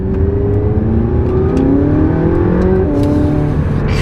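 A McLaren 675 sports car engine revs and accelerates from inside the cabin, a loud, continuous throaty drone whose pitch climbs and shifts through gears with no talking.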